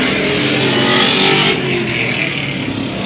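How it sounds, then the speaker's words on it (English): Classic asphalt modified race cars powering around a short oval at Evans Mills Raceway Park, a loud, steady engine roar from the pack holding through the turns with no talking heard. "they're powering through the turns pretty good, and John Semler is trying to catch up"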